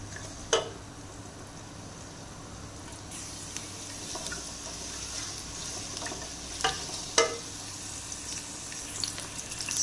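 Chopped garlic and ginger frying in four spoons of oil in a pressure cooker to start a yakhni broth, giving a steady close sizzle with occasional scraping stirs.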